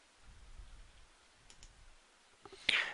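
A computer mouse is clicked a few times in quick, sharp bursts near the end, close up after a stretch of quiet low rumble, with no talking.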